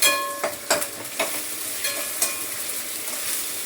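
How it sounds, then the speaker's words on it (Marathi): A ground wet paste sautéing in a little oil, a close, steady sizzle with several sharp spoon scrapes and stirring clinks scattered through the short stretch. "आता थोडंसं तेलामध्ये परतून घेते"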